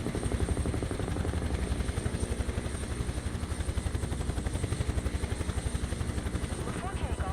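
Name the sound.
aircraft landing in the video game Microsoft Flight Simulator 2024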